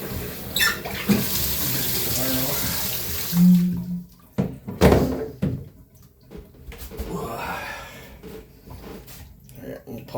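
Water runs into a bathtub while it is being cleaned, a steady broadband rush for the first few seconds that then breaks off into scattered splashes and clunks, with someone talking over it.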